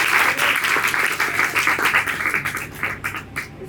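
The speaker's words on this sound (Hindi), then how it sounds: "तालियां तो बनती हैं शायद" An audience at an unplugged music performance claps loudly and densely, the applause fading gradually toward the end.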